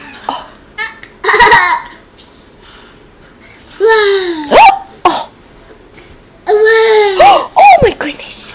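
A small child hiccups repeatedly, sharp squeaky voiced gulps that come in short bursts separated by pauses, close and loud, with some breathy vocal sounds mixed in.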